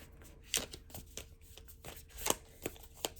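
A tarot deck riffled and bridged in several quick bursts, close by, with soft handling rustles between shuffles.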